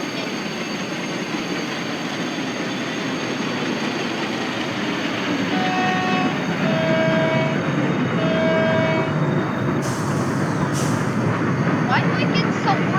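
A video-game train rolls along with a continuous broad rumble, a few sustained horn-like tones sounding in the middle and brief squeals of wheels near the end, while a person talks over it.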